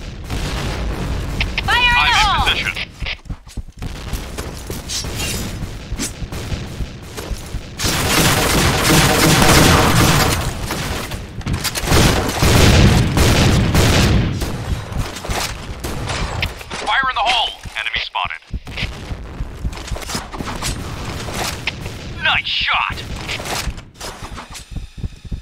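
Loud booming blasts and rapid gunfire from a zombie shooter game, with explosions rolling through a dense, constant battle din while voices talk over the action.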